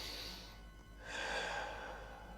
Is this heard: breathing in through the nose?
yes